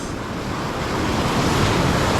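Ocean waves surge in a broad, steady roar of surf, close and loud, with wind buffeting the microphone and no voices.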